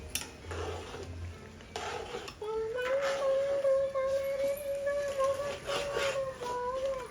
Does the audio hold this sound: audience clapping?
no